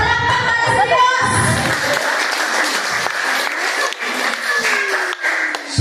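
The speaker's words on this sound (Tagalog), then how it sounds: "Palakpak para sa Diyos." A church congregation applauds for God during a sermon, a dense sustained round of clapping from a crowd with voices mixed in near the start, fading slightly toward the end.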